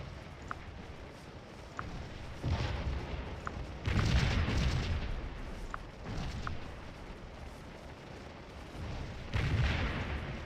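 Artillery battery in the Scourge of War game fires repeated booming cannon shots at irregular intervals, heavy low blasts with rumbling tails over a steady battlefield ambience, with no talking.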